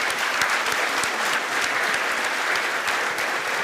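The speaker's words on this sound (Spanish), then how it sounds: "Les voy a pedir un nuevo aplauso para el ministro." An audience at an economic forum applauds a government minister, with dense, even clapping from a large crowd that continues steadily throughout.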